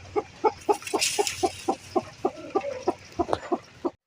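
A native hen sitting on chicken and duck eggs gives a steady series of short, evenly spaced clucks close by, with a brief chattering trill partway through.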